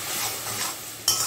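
A spice paste of ginger, garlic, onion and green chilli stir-fried in a pan, giving a continuous close sizzle with a sharp scrape of the spatula near the end.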